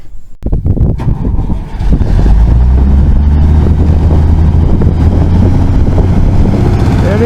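An old farm vehicle engine running at an estate auction outdoors, a loud close steady rumbling idle after an initial start-up clatter, with voices briefly talking over it.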